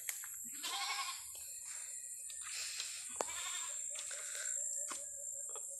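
Several goats bleat in short, wavering calls close by, overlapping and spaced irregularly, with a few sharp knocks between them.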